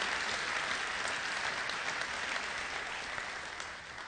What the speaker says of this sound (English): So round of applause for Justin.